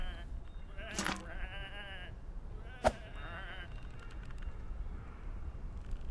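A couple of sheep bleat clearly in the video game Whateverland, with a long wavering call followed by a second bleat a moment later. Both sit over quiet ambient background.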